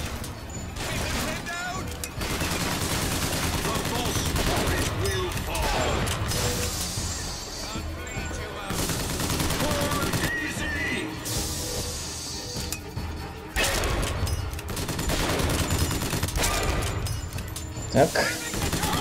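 Gunfire in the video game BioShock Infinite, dense bursts of shots and metallic clinks over loud busy game sound, with a voice talking over the action throughout.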